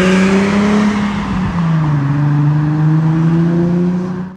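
Nissan VQ V6 in an Infiniti G37, Q60 or Nissan 370Z fitted with a Manzo axleback exhaust, a loud, deep, steady drone with a slight dip in pitch midway, recorded close and alone before cutting off.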